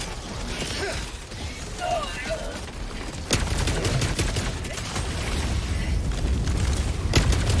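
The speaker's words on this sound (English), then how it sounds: "Requesting orbital strike. Fire in the hole!" An orbital strike lands in Helldivers 2 as a dense, loud barrage of booming explosions over a continuous rumbling roar. Heavier blasts hit at intervals, and a voice speaks over the barrage.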